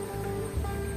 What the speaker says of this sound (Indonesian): Kencang anginnya.